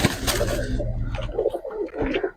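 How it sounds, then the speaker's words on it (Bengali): A teddy pigeon on a pigeon farm in West Bengal coos in soft low repeated notes, close by, with other birds faintly around. "এই যে এটাও একটা টেডি পায়রা"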